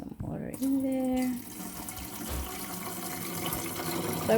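Water pours and splashes into the tank of a Breville Smart Mist humidifier, a steady close fill that trails off into quieter handling noises.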